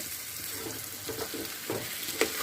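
Drumstick pieces sauté with onion in a pan, a moderate sizzle broken by soft stirring scrapes and small bursts, close and steady without speech.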